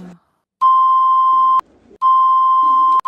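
Two long, steady censor bleeps, each about a second, separated by brief muffled speech.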